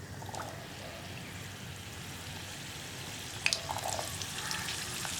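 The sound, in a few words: chickpeas frying in hot oil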